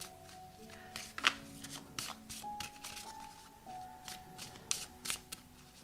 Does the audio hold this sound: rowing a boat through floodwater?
no